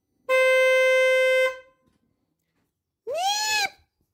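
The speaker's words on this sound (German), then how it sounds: "Also, Flo demonstriert nochmal eben das Hupenproblem." A Seat Mii's weak stock car horn honks twice, close and alone: first a steady thin tone of about a second, then a shorter blast that wavers in pitch.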